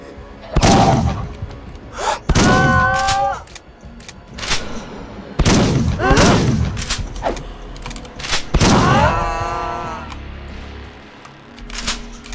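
Shotgun blasts in the horror game Unloved, several loud sharp reports spaced a couple of seconds apart, each followed by mechanical pump or reload clatter.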